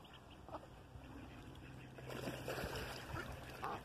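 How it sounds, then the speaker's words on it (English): Mallard ducklings in a park give faint, soft quacks and peeps, scattered and slightly distant over quiet outdoor ambience, with a voice briefly present. "Little mallards here, look."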